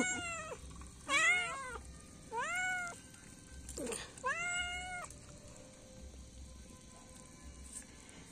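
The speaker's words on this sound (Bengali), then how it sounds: "আমার বিড়াল ছানারা" Kittens meow repeatedly in short, rising-falling cries at close range, several separate calls spaced a second or so apart, over a soft patter of rain at home.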